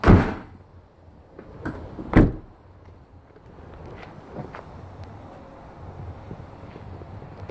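The sliding side door of a Ford Connect LWB van slams shut twice, two sharp knocks close together, followed by faint rattling and quiet handling noises with no voices.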